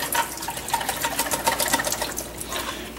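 Water is added to live snails in a lidded container and swished around to rinse them, making a steady, close, fairly loud rushing and sloshing of liquid throughout.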